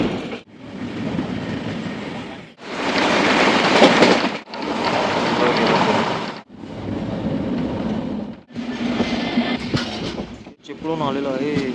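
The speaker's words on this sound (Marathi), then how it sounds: "फायनली आपली ट्रेन आली" Janshatabdi Express passenger train arriving and running past in India, loud rumbling roars in several surging bursts separated by brief gaps, with a voice faintly heard near the end.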